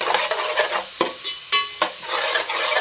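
Thin, long-sliced capsicum stir-fried in chilli gravy with onion, ginger and garlic sizzles loudly up close, broken by sharp stirring scrapes of a spatula against the pan.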